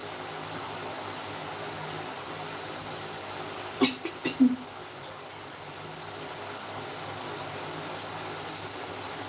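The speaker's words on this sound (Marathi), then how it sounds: "छोट्याच्या पप्पांना पण खोकला" A short burst of two or three coughs sounds briefly over a steady background hum of fan-like noise.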